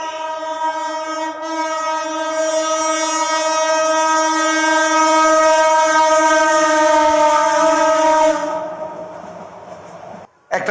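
A passing train sounds a loud, sustained horn for about eight seconds, then the horn cuts off and the rumble fades.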